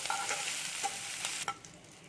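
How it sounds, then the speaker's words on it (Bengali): Coconut and spices are stirred lightly in a pan for a coconut chutney served with dosa. A few soft scraping strokes sound over a faint sizzle, with no talking. "দিয়ে এবার এটাকে আমি একটু নেড়ে নেবো, একটু হালকা নেড়ে নেবো।"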